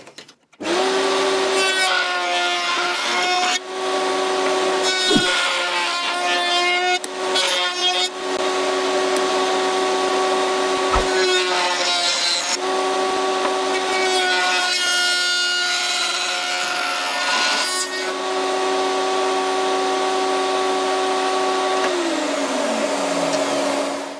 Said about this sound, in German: Diese Kanten sind mir ein klein wenig zu scharf, deshalb werde ich die jetzt hier rund fräsen.